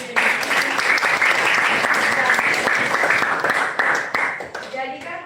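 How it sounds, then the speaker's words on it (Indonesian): A classroom of students applauds in a dense, lively burst after a fried-rice cooking demonstration, with voices chattering underneath before the clapping thins out and fades at the end. "tepuk tangan Pak."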